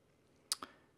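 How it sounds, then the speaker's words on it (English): A single mouse click on an Edit button in an online store's settings page, a crisp near press-and-release pair in quick succession against faint room noise. "you go under Settings, click on Edit here."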